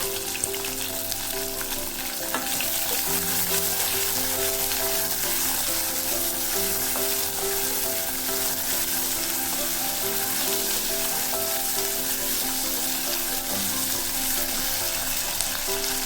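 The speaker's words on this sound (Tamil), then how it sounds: "இப்போ வெங்காயம் போட்டுக்கிறேன்." Small onions hit hot oil already crackling with mustard seeds and fenugreek for a Tamil onion kuzhambu, producing a loud, continuous sizzle and hiss throughout, with a few faint stirring sounds and no speech.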